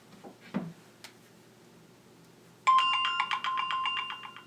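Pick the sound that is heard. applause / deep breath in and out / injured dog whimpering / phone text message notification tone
phone text message notification tone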